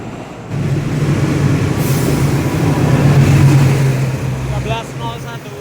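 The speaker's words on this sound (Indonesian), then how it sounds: "Kereta api Argo Semeru." The Argo Semeru passenger train rolls through a railway crossing, a loud sustained rumble that swells mid-clip and fades, with a crossing bell or warning tone ringing near the end.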